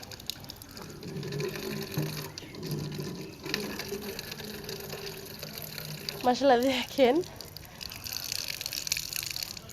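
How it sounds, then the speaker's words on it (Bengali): Water runs from a tap into a container for watering chilli plants, a soft gushing fill heard under nearby talk. "পানি ছাড়তেছে"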